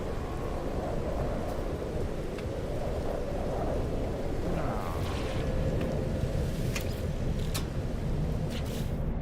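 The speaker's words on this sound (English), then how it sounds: "Weather update. Storm clearing." Thunderstorm weather in No Man's Sky: a dense, continuous roar of rain and low rumbling thunder, with a few sharp crackles standing out late on, steady and loud with no talking.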